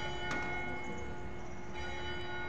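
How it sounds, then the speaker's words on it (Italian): Church bells ring out at noon in a small Italian town, a steady layered toll with a sustained hum behind it, heard from a moderate distance with no one talking. "Sentite le campane, stanno suonando, ora è a mezzogiorno."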